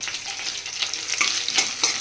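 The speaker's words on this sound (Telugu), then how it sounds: "పోపు అయితే బాగా వేగిపోయింది" Spice tempering (popu) sizzles steadily in a hot pan of oil, a continuous close crackling hiss with a few sharper pops and stirring scrapes, no voices.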